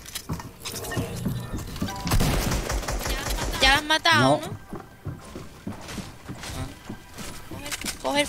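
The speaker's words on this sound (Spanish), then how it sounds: "Escopeta táctica." Tactical shotgun fire in a video game, a handful of sharp loud blasts with in-game clatter and voices talking over it.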